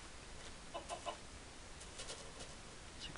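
Soft chicken clucks from the video game Minecraft, a few faint brief clucks rising above a steady hiss of background noise.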